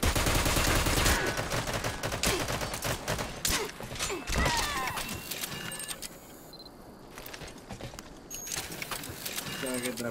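Gunfire in Metal Gear Online 3 crackles in dense, rapid bursts near and loud, thinning toward the middle then picking up again, with a voice talking over the shooting.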